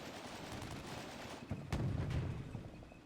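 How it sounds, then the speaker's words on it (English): An RPG and small arms fire from a Soviet squad in Combat Mission Cold War: a dense wash of distant gunfire, then a sharp boom followed by heavier rumbling shots, steady and fairly loud with no voices. "a Soviet squad opens up with an RPG and small arms"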